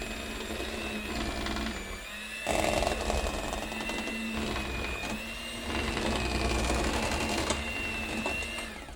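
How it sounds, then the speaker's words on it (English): An electric mixer whips potatoes with milk for a smooth mash, a steady whirring motor hum that surges louder in stretches and never stops. "Let's blend it a little more. Mix it a little more."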